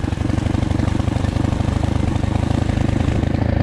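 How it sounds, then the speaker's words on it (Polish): A Loncin 110/125 enduro motorcycle engine brakes off-road with a close, loud, rapid pulsing chug that stays steady throughout, with no voices over it. "Hamujemy silnikiem, bo nie ma hamulca z tyłu."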